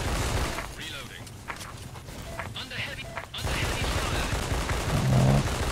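Rapid gunfire from the video game S.K.I.L.L. Special Force 2, dense bursts of shots filling the whole stretch, briefly thinning mid-clip before resuming loud, with game voices faintly underneath.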